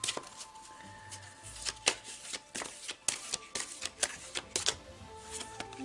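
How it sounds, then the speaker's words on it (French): Tarot cards drawn and shuffled at close range, giving irregular papery flicks, slaps and snaps in quick succession over a quiet room, with no speech. "Donc je vais encore retirer 3 cartes."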